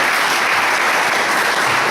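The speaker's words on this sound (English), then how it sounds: "Round of applause for that." An audience at an acoustic club applauds. The sound is a dense, steady wash of clapping from many hands that fills the room at a fairly loud level, with no gaps.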